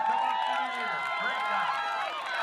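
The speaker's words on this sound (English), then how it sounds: "Everybody's cheering her on" Spectators at a state high school girls' cross country meet cheer a runner near the finish, a blur of distant crowd shouts and whoops mixed with nearer voices, steady throughout.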